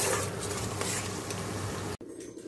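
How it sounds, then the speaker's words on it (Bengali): Spice masala sautéing in a pan, a continuous soft sizzle with stirring scrapes and light clinks of utensils, moderately close, cut off abruptly near the end, followed by faint quiet room noise. "তো চলো মশলাটা ভালো করে কষে নিই।"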